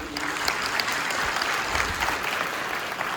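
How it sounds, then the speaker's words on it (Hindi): An audience claps steadily for a student called up at a talk on why students should launch startups, a dense, even patter of many hands lasting throughout with no voices over it. "इसीलिए ताली बजाओ।"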